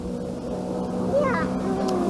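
Motor drone of jet skis out on the water at a lakeside campsite, a steady engine hum running throughout with a passing whine, while people talk nearby.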